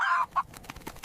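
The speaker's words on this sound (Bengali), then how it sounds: "This is a rooster." A rooster gives one short, clear call up close, followed by a brief quieter cluck.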